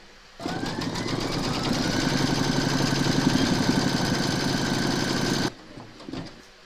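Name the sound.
embroidery machine stitching a notebook cover in the hoop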